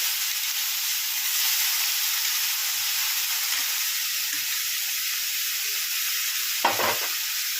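Raw mango pieces drop into hot oil with dried red chillies, making a steady broadband sizzle with a brief louder burst of spatter near the end, close and continuous with no voices.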